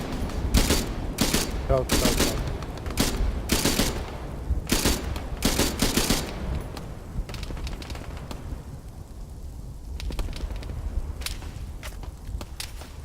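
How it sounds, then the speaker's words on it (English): Bursts of gunfire in a Vietnam-era military simulation video game, with sharp broadband shots in quick clusters through the first half and scattered distant shots after, under radio chatter and shouted voices. "Taking fire from inside the building, right window."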